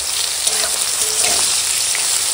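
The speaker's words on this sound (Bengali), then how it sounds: "আর এখন ওই মাছ ভাজার তেলে ভেন্ডিগুলো দিয়ে ভেজে নেবো।" Okra sizzles and crackles in hot oil left from frying fish, a steady loud frying hiss with a few faint stirring sounds.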